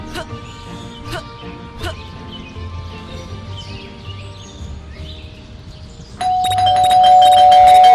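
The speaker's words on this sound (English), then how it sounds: "That stupid bell again." Doorbell in the Scary Teacher 3D game, a loud sustained electronic ding tone ringing near the end after a stretch of quieter game sounds with chirpy bird-like calls.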